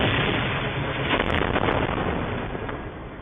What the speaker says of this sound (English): There's the explosion of the HIMARS missile as it lands in the middle of the city,